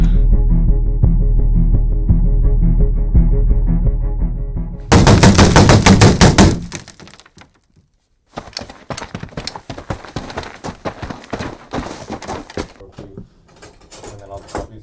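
An MG42 machine gun in a Call of Duty game fires in a long, loud, sustained stream, followed by further rapid bursts broken by short silences and scattered mechanical clatter, with people talking at times.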